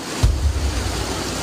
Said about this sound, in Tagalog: Kita rin sa videong ito ang mabilis na ragasan ng tubig malapit sa palengke.